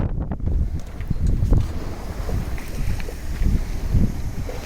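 A sailboat runs fast under sail on the Limfjord in Denmark, with strong wind buffeting the microphone over a steady rush of water along the hull, loud and continuous with no voices.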